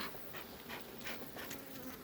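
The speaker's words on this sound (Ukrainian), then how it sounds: "Починаємо процес струшування бджіл." Honeybees swarm in a dense, faint buzzing drone as a beekeeper shakes them off the frames at the end of the season, with soft bursts of rustling and wingbeats rising and falling, and no talking.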